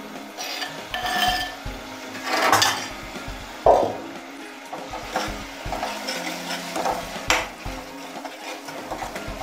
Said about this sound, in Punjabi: ਹੁਣ ਆਪਾਂ ਇਹਨੂੰ ਹਿਲਾਉਂਦੇ ਹੋਏ ਇਹਨੂੰ ਭੁੰਨਾਂਗੇ